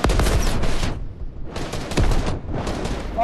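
Gunfire in a shooter video game, three dense bursts of rapid automatic shots, loud and close, separated by short quiet gaps.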